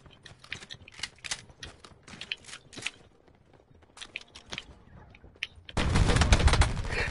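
Two close-range shotgun blasts in Call of Duty Blackout ring out among sharp clicks and clatter, followed by a loud, dense burst of noise near the end.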